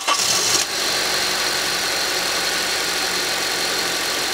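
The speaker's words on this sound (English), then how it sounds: "now it sounds pretty dang good when we fire this thing up" A 2014 Honda CR-V K-series engine, fresh from a VTC actuator replacement, cranks and catches with a brief burst, then settles into a steady, loud idle rumble close by without rattling.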